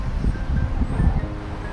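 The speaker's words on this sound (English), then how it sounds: "It's pretty windy here." Steady low rumbling wind by Lake Erie buffeting the microphone, continuous and fairly loud, with a faint rustle and no speech.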